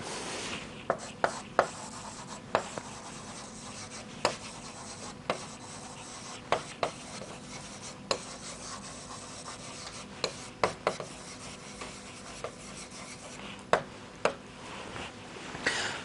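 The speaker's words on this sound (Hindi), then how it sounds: "मैं वाक्य लिख रहा हूं" A sentence being written on a classroom board, with a steady faint scratching rub broken by sharp, isolated taps at irregular intervals, close and clear with no talk over it.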